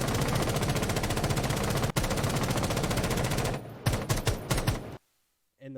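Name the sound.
R4C assault rifle firing in Rainbow Six Siege video game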